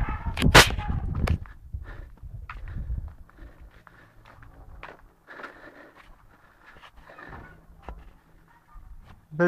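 Heavy artillery shelling strikes the town of Ma'arbeh in Daraa: a sharp, loud blast cracks out near the start, followed by scattered fainter thuds and knocks over a quiet background.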